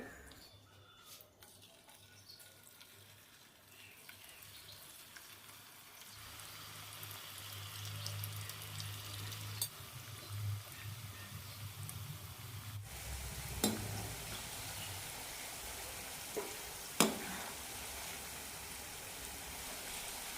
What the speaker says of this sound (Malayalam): എണ്ണ ചൂടായിട്ടുണ്ട് ഇതിലേക്ക് ഇടാം